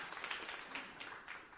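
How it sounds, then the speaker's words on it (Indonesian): A church congregation claps together in a short burst of applause, dense and steady, with no voices on top. "Tepuk tangan yang meriah untuk kemuliaan Tuhan."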